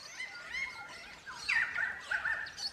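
Crimson rosella parrots call in a run of shrill, squeaky, whistled notes. They come in quick bursts, fairly clear and moderately near, over a quiet natural background.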